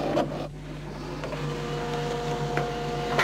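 A printer runs quietly indoors, a low steady mechanical hum with faint tonal whine and occasional soft clicks, heard alone at modest volume.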